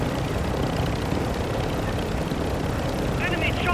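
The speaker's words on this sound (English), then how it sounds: "Enemy chopper marked!" A helicopter in a video game battle royale drones steadily with dense rotor and engine rumble, loud and continuous, with a brief voice at the end.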